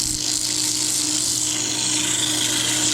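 Continuous abrasive rasping of sandpaper against a spinning resin and cedar piece on a wood lathe, with a steady low machine hum underneath, close and loud throughout.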